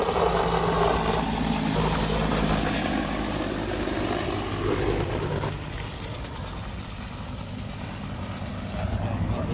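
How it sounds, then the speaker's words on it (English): An aircraft makes a flyby over a memorial service, its engine a steady, continuous drone that eases slightly toward the end. "Now we're waiting for the flyby, which should take place in just a minute or two."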